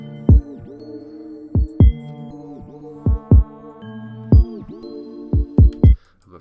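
Kick drum pattern programmed in FL Studio with varied velocities for bounce, about ten punchy low thumps in a syncopated rhythm over a sustained tonal backing, some hits softer than others, no talking.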